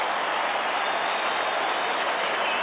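AFL crowd at a Port Adelaide versus Brisbane match cheering a goal, a broad continuous roar of a large stadium audience, steady and somewhat distant.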